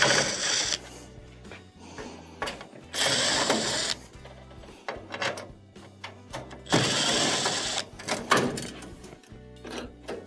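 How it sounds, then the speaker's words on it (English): Phillips screws being backed out across the top of a range oven panel, with repeated short ratcheting, clicking driver bursts separated by brief pauses, close and fairly loud, no talking. "let's remove the Phillips screws going across the top"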